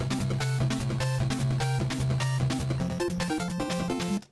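Busy chiptune-style game music plays loud and continuous, with a steady bass line and bright stacked melody notes, ending abruptly.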